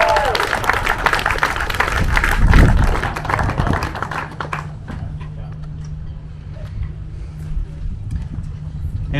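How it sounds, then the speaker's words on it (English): Applause from the crowd at a sailing awards ceremony for the ILCA 7 class nationals, a steady wash of clapping that swells around the middle and then thins into a softer patter under a low hum. "Applause again."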